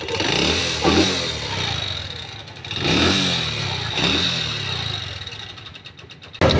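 A motorcycle engine with a loud internal tapping fault runs close by, revving up and down in waves with a persistent knocking clatter riding over the rough mechanical roar.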